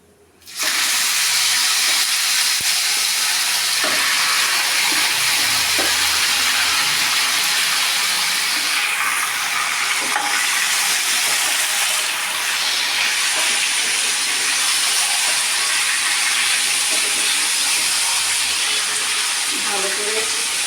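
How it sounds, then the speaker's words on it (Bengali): Marinated chicken sizzles loudly in a hot pan, a dense, continuous hiss of frying broken only by faint stirring knocks. "এবার ম্যারিনেট মাংসটাকে এবারে ছেড়ে দেবো।"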